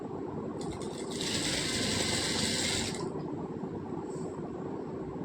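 Sewing machine stitching a silk blouse, a steady close mechanical whirring and clicking that runs throughout, with a brighter rattling burst in the middle seconds.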